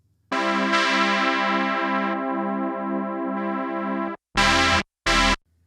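Analog synth played through a Boss JC-40 guitar amplifier, a sustained harmonically rich chord with pulsing modulation held for about four seconds, then two short loud stabs, alone with no talk.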